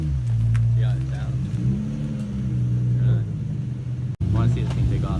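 A Nissan 350Z/G35 fitted with a Motordyne test pipe pulls away, its exhaust a deep, steady rumble that stays loud and close throughout, with a brief dropout near the end.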